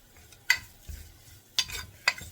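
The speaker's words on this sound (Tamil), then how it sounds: "வேப்பம்பூ நல்லா இப்படி வறுக்கணும்" Neem flowers and curry leaves fry in ghee for a rasam, giving a soft sizzle broken by three sharp scraping stirs of a spoon against the pan, close by with no talking.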